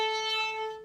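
A single violin bow stroke drawn without enough bow pressure, giving a thin, steady, sustained note that plays alone and fades slightly toward its end.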